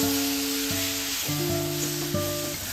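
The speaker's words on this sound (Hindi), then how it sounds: "अभी मैरिनेटेड चिकन को ऐड करेंगे और हाई फ्लेम में इसको पकाएंगे" Marinated chicken cooking on a high flame, a steady, fairly soft sizzle running throughout with sustained tonal notes layered over it and no voices.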